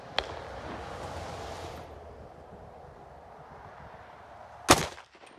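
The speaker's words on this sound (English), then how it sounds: "now I got the 16 inch barrel shooting the same ammo" A single sharp shot from a 300 Blackout rifle with a 16 inch barrel rings out near the end, loud and close, after a quieter stretch of outdoor background noise.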